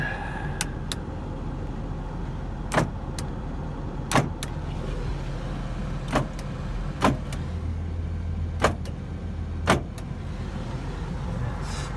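A Toyota Land Cruiser FJ62 interior with a steady low hum, punctuated by several sharp mechanical clunks of the power door locks spaced a second or two apart.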